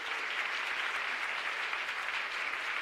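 Wedding guests at a church ceremony clapping for the bride and groom, a steady, full round of applause from a crowd, moderately loud and continuous.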